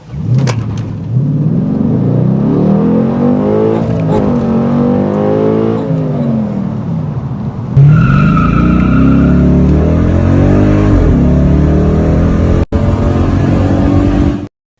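Dodge Challenger SRT8 with the 6.1-liter engine accelerating hard: a loud, close engine roar climbs in pitch through the gears, with a shift partway and continuous power to the end.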